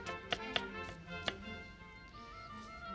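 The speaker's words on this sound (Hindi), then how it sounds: "प्याज के हरे पत्तियां अलग हम लेंगे और बाकी प्याज को हम चॉप करेंगे।" A knife chops onion on a board, giving a few sharp, separate taps over background music, with uneven gaps between the strikes.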